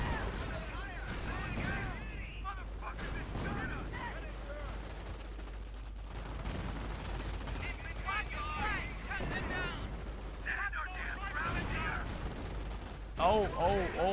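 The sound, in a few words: mortar fire in Company of Heroes video game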